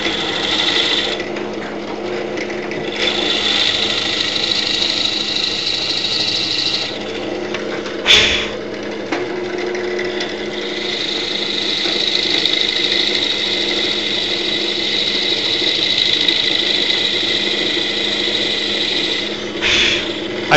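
A homemade wooden rock tumbler is switched on and runs with a steady mechanical whir and hum, close by and fairly loud. Brief clunks break in around the middle and again near the end, with no talk.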